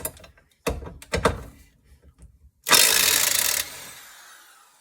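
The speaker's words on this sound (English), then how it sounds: "I have a 15 millimeter socket here that I am going to use on the bolt on this side" A socket wrench on a 15 mm suspension control arm bolt of a Rover 75/MG ZT rear suspension gives a few sharp metallic clunks, then a loud burst of about a second of ratcheting or grinding that fades out.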